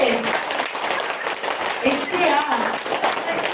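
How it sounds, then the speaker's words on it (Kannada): A crowd at a live Tulu talk event claps loudly, a dense, steady wash of applause filling the whole stretch with a few brief louder swells. "ಯಾರಿಗೆಲ್ಲ ತುಳು ಬರ್ತದೆ ಅಂತ ಹೇಳುವಾಗ ಜೋರಾಗಿ ಕೈ ಚಪ್ಪಾಳೆ ಕೊಡ್ಬೇಕು"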